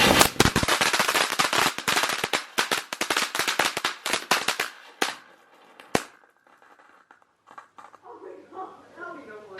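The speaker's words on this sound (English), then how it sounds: "We're gonna do like one little firecracker" A small firecracker goes off outdoors as a rapid, loud string of sharp pops and crackles lasting several seconds, then one last bang, followed by quiet with voices talking faintly.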